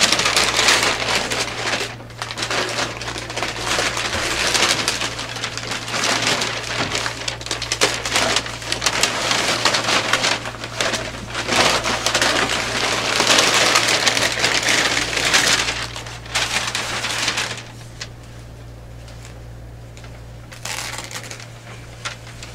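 Wrapping paper being torn off a package, a long loud rustling and ripping of paper close by that continues for most of the time, then drops to quieter handling.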